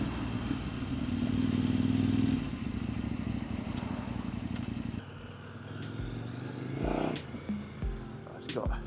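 A Kove 800 adventure motorcycle engine drones steadily while being ridden, with a louder surge early on, then a rougher stretch with clatter and passing bursts toward the end.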